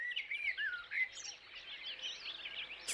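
Several birds chirp and trill continuously at moderate volume at twilight on Lake Neusiedl, a lively outdoor chorus with no voices; frogs and crickets are not clearly picked out.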